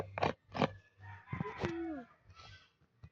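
Chickens cluck and a rooster crows nearby, several short bursts of fowl calls spaced over a few seconds, moderately loud against a quiet background.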